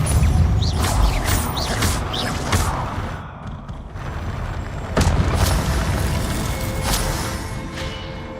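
Confringo and Depulso spell blasts in Hogwarts Legacy, a run of loud booming impacts and crashes with whooshing bursts, a short quieter gap just past three seconds, then a strong blast at five seconds.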